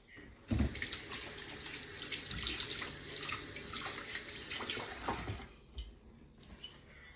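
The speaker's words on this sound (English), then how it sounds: "if you want to put a little bit of water in here, you can, just a little" Water trickles steadily into a crock pot holding pork for pulled pork BBQ, a close, continuous splashing stream with a brief louder burst near the start, then tapering off at the end.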